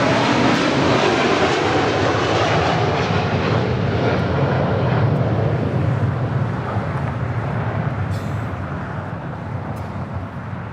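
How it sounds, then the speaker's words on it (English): A Polar Air Cargo Boeing 747-8 freighter departs LAX with a loud, sustained broadband jet engine roar, steady and dense throughout, easing slightly toward the end as it moves away. "9601 departing to Seoul on a 747-8 freighter."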